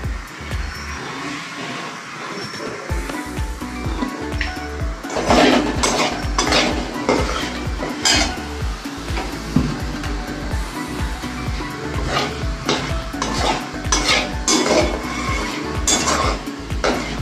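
Dry spices, five-spice seeds, dried red chillies and bay leaves, frying in a pan, with repeated metal utensil scrapes and clinks of stirring throughout, loud and close, no talking.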